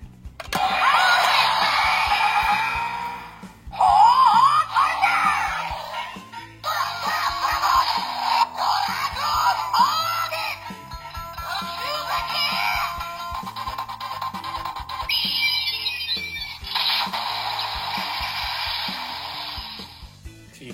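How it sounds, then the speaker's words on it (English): Donbrothers DX Avataro Gear toy plays its electronic finisher sound effects: bursts of bright synthetic whooshes, chimes and tones in several separate blocks with brief gaps between, loud and close, with no talking. "So you definitely get a very unique, array of sound effects from all the different Six Ranger finishers over the years."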